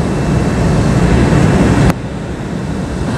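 Steady loud roar of an airplane in flight heard from inside the cabin, a dense constant rumble that drops slightly in level partway through, with no voices.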